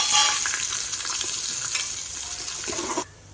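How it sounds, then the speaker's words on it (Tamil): Cumin, cardamom, cinnamon and cloves, both whole and crushed, crackle in hot ghee for chicken biryani, a bright steady sizzle that stops abruptly after about three seconds. "இப்போ இந்த சீரகம் ஏலக்காய் பட்டை கிராம்பு நுணுக்குள்ள போடுவேன்"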